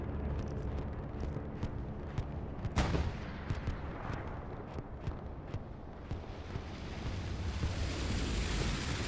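Bombing run explosions in a World War II shooter on the Tobruk desert map, heavy rumbling booms rolling in over a continuous roar of battle noise, with one sharp blast standing out early and a swelling wash of sound toward the end.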